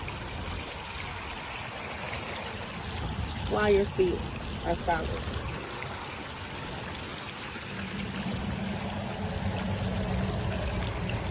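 A small stream in Briarwood Park in Desoto, Texas, flowing and trickling steadily in the background, with a steady outdoor wash of running water while a person speaks briefly over it.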